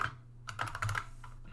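Typing on a computer keyboard, a quick run of close, crisp key clicks in an irregular rhythm with no talking.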